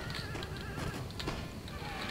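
Cavalry horses in a Napoleon: Total War battle neigh and whinny over a dense, continuous rumble of galloping hooves and battle din, loud throughout.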